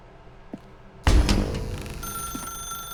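In The Stanley Parable, a telephone suddenly begins ringing loudly after a quiet moment, its bright metallic bell sustaining and shimmering close by with no talk over it.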